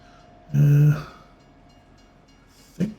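A passing train in Farming Simulator 25 gives one loud horn blast, followed by a faint rumble and a brief second burst of sound.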